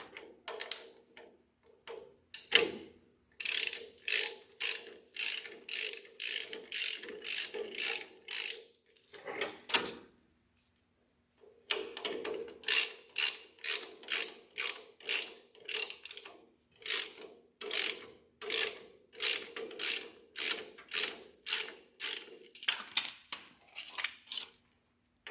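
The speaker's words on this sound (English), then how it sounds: "I'm gonna use the ratchet now and chase those in as close as I can anyway" A hand ratchet tightens bolts on a 1970 El Camino under restoration, two long runs of rapid, even clicking close up, separated by a short pause, with no talk.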